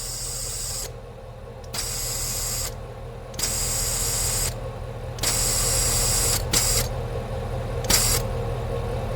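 Air hisses out of the valve of an Infiniti QX80 tire in several separate bursts of varying length, loud and close, with brief pauses between releases.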